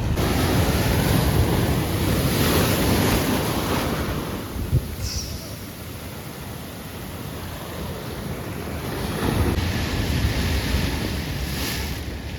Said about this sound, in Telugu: బీచ్ మాత్రం ఎక్సలెంట్ ఉంది, సూపర్ అంటే సూపర్ ఉంది.